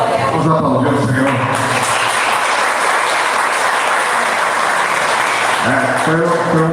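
Congregation applauding during a thanksgiving church service, a sustained wash of clapping that swells in the middle and fades back into voices and music at the start and end.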